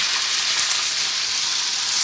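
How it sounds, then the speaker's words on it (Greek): Meat and green beans sauté in a pot for a Greek stew, a steady, loud, even sizzle of frying that holds without pause, with no voices. "Πασανίζουμε το κρέας μας καλά και το φασολάκι μας."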